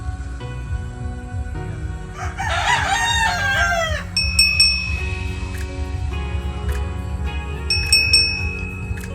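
A lemon sweater gamefowl rooster lets out one loud, close crow, followed by scattered clucks and soft fowl sounds, with faint metallic dings in the background.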